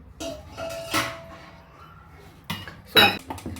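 A lid goes onto a pot of cooked rice with a few light metallic clinks and taps, then a sharper clatter near the end, set against a quiet room.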